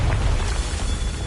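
A Confringo fire spell explodes in Hogwarts Legacy as a short burst of thick, rumbling blast noise that stays level throughout.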